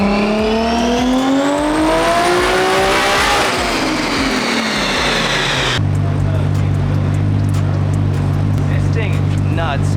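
A 550 hp Nissan 240SX with an RB25 engine revs hard on a dyno, loud and close, the tone climbing and falling through a long pull before settling into a steady droning hold.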